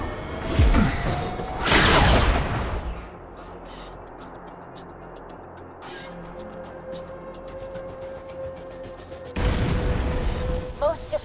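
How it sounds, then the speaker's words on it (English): A cannon fires in the video game Borderlands 2 with loud, booming explosions, two heavy blasts early and another near the end, over low rumbling game ambience. "Please fire the cannon again."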